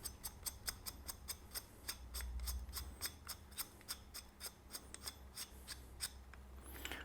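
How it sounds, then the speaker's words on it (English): A shroud is screwed onto a Walther Colt 1911 Gold Cup pistol, giving a steady run of small, close metallic clicks and light scrapes at a fairly even rhythm, with no talking. "And then finish screwing on the shroud there."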